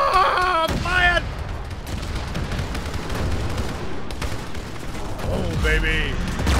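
Heavy gunfire and booming blasts in an Arma 3 Halo-themed battle, a dense, continuous roar of shots and explosions with shouting voices over it.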